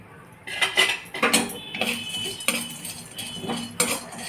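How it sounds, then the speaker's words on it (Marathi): Whole cloves dry roasting in a metal pan for Maharashtrian goda masala, with a spoon scraping and clinking against the pan in about six distinct bursts, close and fairly loud, with no talking. "लवंग भाजून घेऊया आता"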